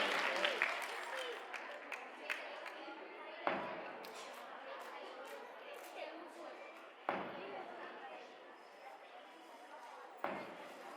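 An audience claps for students at a community award ceremony for standards 1 to 9, a scattered, moderately close round of applause broken by several sharp thuds, with a voice speaking over it.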